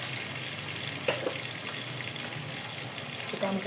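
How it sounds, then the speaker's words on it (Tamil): Onions sautéing with a little salt for a pressure cooker prawn biryani, a steady soft sizzle throughout with a couple of faint scrapes or clinks of a spoon near the start and end. "வெங்காயம் வதங்க கொஞ்சம் உப்பு போட்டுக்கலாம்"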